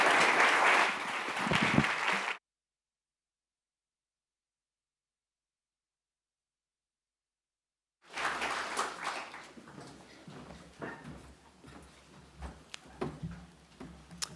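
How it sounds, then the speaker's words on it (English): Audience applause at a forum on refugees and people seeking asylum: a burst of clapping, a long silent gap, then a second round of applause resuming with scattered claps, moderately loud. "And another round of applause."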